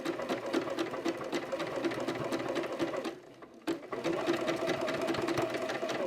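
A sewing machine stitches a fabric headband in rapid, even needle strokes, pausing briefly for a slow turn before resuming at a steady close-up pace.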